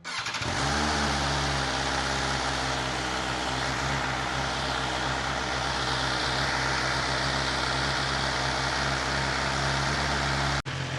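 BMW S1000XR motorcycle with a newly fitted aftermarket exhaust, engine held at high revs: a loud, dense, continuous roar that kicks in within the first second and stays steady, then cuts off abruptly just before the end.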